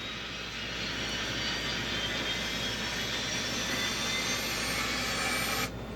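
A T-2 Buckeye jet engine in a flight simulator game whines as it spins up, a steady rising roar with a rushing hiss that cuts off sharply near the end.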